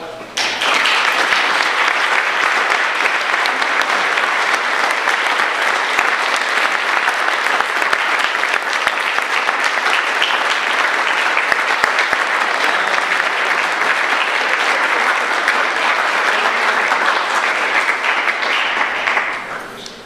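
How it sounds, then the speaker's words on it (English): Sustained audience applause at the 2010 Dragon Slayer Awards ceremony, loud and steady clapping from a crowd lasting about twenty seconds before tapering off at the end. "Ladies and gentlemen, let's give a round of applause for Mr. Jack White."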